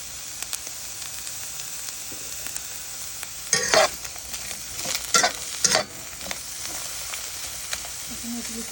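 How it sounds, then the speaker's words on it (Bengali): Onions and dried red chillies fry in a pan for a Bengali fish bharta, with a soft continuous sizzle and a few louder bursts of stirring and scraping near the middle. No one speaks. "পেঁয়াজগুলোকে আমি একটু হলো এইভাবে ভেজে নিব। এর ভিতরে এই যে শুকনো মরিচগুলো দিয়ে দিলাম"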